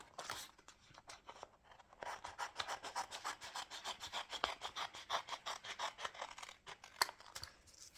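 An X-Acto knife draws through a sheet of regular cardstock on a cutting mat, making a quick series of close, dry scraping strokes that grow denser and more rhythmic partway through.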